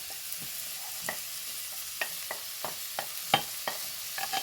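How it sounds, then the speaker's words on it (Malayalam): Tomato, green chilli and ginger sautéing in a pan for prawn curry, a soft background sizzle broken by a series of light, irregular scraping taps from stirring. "ഇതെല്ലാം കൂടെ ഒന്ന് വഴറ്റിയെടുക്കാം"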